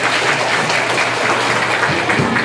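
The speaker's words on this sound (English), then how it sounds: "Let's give them one big round of applause." A school assembly audience applauds veterans with dense, steady clapping from a large crowd in a hall, loud and continuous without talk.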